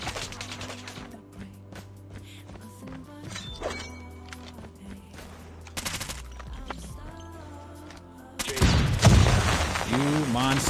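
ASVAL rifle gunfire in Call of Duty Mobile, rapid bursts of shots over in-game sounds and voices, building to a loud, dense fusillade with explosive booms near the end.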